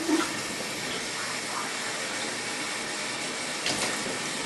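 Steady rushing cold water runs from a tap close by, a continuous broadband splash with a brief louder gush near the end.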